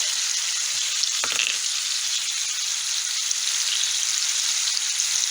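Seasoned minced meat fries in a pan with a constant, close, bright sizzle, broken once by a brief clink of a utensil.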